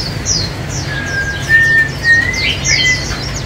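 A caged white-eye songbird sings close and loud, a run of quick bright chirps and thin whistled notes over a constant low background hum.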